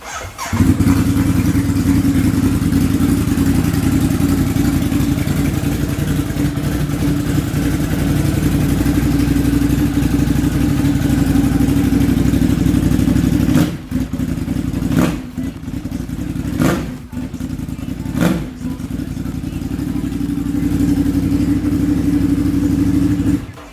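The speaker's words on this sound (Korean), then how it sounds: "SC 프로젝트 머플러 튜닝된 821의 배기음을 한번 담아보도록 하겠습니다." A water-cooled Ducati Monster 821 with an SC-Project aftermarket exhaust runs loud and deep with a throaty rumble, steady for a long stretch, then cuts out briefly before revving again in sharp bursts.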